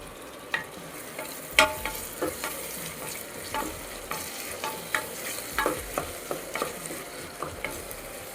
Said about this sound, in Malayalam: തക്കാളി നന്നായി വെന്ത് കിട്ടുന്നത് വരെ തുടർച്ചയായി വഴറ്റിയെടുക്കാം.